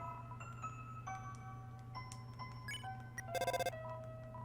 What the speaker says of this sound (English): The phone kept ringing infinitely.